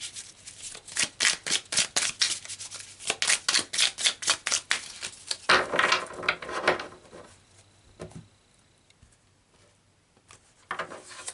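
Tarot cards being shuffled and pulled during a reading: a rapid run of crisp, close riffling and flicking that slows into softer sliding and a few light taps, then near-quiet.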